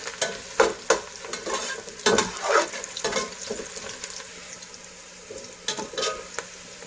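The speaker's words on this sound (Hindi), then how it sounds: "अब मैं पहले चॉप ऑनियन फ्राई करूंगी। अब ये स्लो स्लो फ्राई हो रहा है।" Chopped onions fry slowly in oil in a kadai, a soft continuous sizzle punctuated by repeated clattering stirs of a ladle against the metal, loud and close, with no speech.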